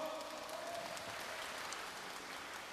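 Residents at a neighborhood redevelopment briefing in Bulgwang-dong clap together, a soft, even, distant patter of applause filling the room with no break.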